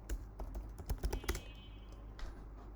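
Quick keystrokes on a computer keyboard, a close burst of clacking taps that slows to a few quieter presses.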